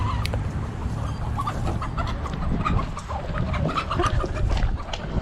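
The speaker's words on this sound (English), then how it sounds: "No lie, I'm about to catch a chicken." Chickens cluck and squawk close by in Puerto Rico, the fowl calls rising repeatedly over a rough outdoor background with no talk.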